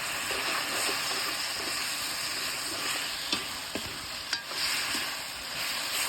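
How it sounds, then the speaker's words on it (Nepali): Cooked tomatoes sizzle softly in a frying pan while being stirred, with occasional light clicks and scrapes of the utensil over a steady, low frying hiss. "अब म यसलाई मजाले मिक्स गर्छु।"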